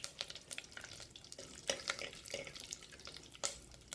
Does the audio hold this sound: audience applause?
no